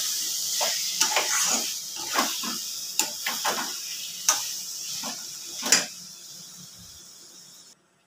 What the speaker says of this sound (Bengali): আলুটা দিয়ে এবার কিছুক্ষণ কষাবো।